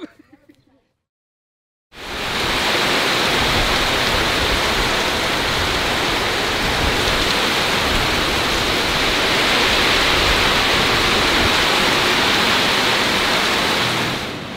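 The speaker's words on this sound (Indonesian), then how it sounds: "hujannya parah banget, anginnya kenceng banget" Heavy rain and strong wind in a storm, a dense steady roar that starts abruptly after a brief faint moment and stays loud and unbroken throughout.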